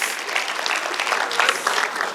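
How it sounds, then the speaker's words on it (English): Audience applause in a church service setting, a steady crowd of hands clapping at fairly close range, slightly uneven in loudness, with no voices over it. "Can you give my friends a round of applause?"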